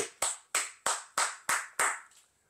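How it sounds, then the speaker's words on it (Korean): A single person claps hands six or seven times at a steady, even pace, each clap crisp and close with a short ringing decay and no talk around it. "제가 박수를 칠 수밖에 없습니다"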